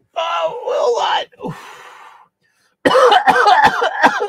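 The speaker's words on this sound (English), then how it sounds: "Don't cough it out" A person coughs hard several times, harsh and close, with a short raspy gap before a second run of sharp coughs.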